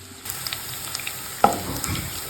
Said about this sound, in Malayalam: നമ്മുടെ ഇഞ്ചി, വെളുത്തുള്ളി, പച്ചമുളക്, കറിവേപ്പില എല്ലാം മൂത്ത് വാടിക്കൊണ്ടിരിക്കുകയാണ്